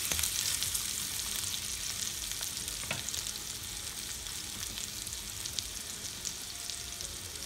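Potatoes fry in a pan with a steady, dense sizzle and an occasional stir or scrape, close and moderately loud, with no voices.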